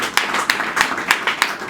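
A few people clap in a loose, uneven rhythm at a civil wedding ceremony, close and sparse, with distinct individual claps.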